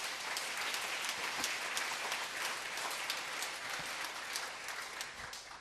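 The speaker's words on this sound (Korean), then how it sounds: "박수로 하나님께 영광 드리겠습니다" Congregation applause in a church, dense, even clapping from many people sustained throughout at moderate loudness and tapering slightly at the end.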